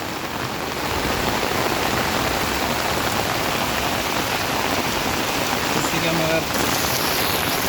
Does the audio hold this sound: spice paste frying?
no